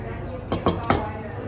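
Glasses clink together in a toast at a campsite, three quick bright taps close together, heard over a soft background murmur.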